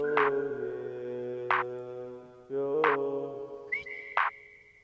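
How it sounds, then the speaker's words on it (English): A soft melodic whistle sits over a layered music track, with sustained chords and plucked accents, several notes held and gliding. "Under that, there's a whistle."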